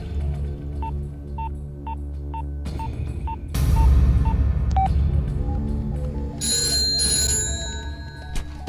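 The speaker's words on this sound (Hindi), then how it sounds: "सर, घंटी बज रही है, कोई फोन नहीं उठा रहा है।" A telephone sounds a run of short, evenly spaced electronic beeps over a low background hum, followed by a noisy burst and a brighter, higher ringing tone.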